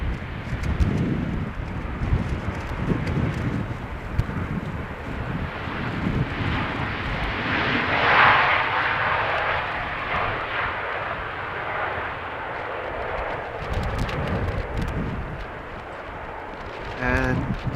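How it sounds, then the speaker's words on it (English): A Transavia Boeing 737 jet arriving at Amsterdam on a windy day gives a broad, sustained roar that swells and fades gradually, heard continuously outdoors with wind noise underneath. "Another Transavia 737."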